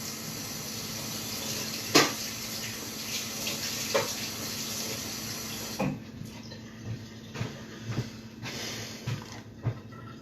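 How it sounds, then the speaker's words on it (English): Water runs steadily from a tap into a sink, close and continuous, with a few clinks and knocks of dishes. "let's get some water out"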